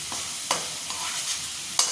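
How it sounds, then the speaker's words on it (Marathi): Ginger-garlic spice paste fries in oil for a dry chicken dish, giving a steady close sizzle broken by a few sharp scraping stirs. "मसाला चांगला तेलात परतला गेला आहे"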